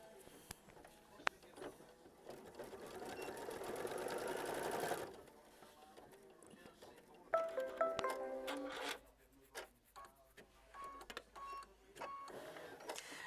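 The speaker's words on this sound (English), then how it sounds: "And we're going to tack it down with machine stitch step 21." Computerized sewing machine tacking down quilt block fabric with a machine stitch, a rapid, close mechanical whirr in two runs separated by quieter handling and soft clicks, fairly faint overall.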